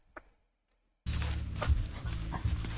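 After a second of near silence, a dog's loud, noisy panting and snuffling erupts close by, continuing with rough breathy bursts in an outdoor spot visited by charity vloggers.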